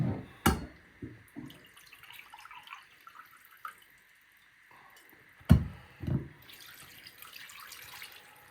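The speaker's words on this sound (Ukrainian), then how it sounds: "І наливаємо стакан води." Water trickles and splashes into a glass, with clunks and knocks of handling in between; close, moderate, no talking.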